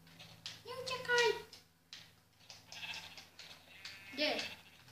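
A sheep in the Minecraft video game gives two short bleats about three seconds apart, clear and close, while someone talks over and between them.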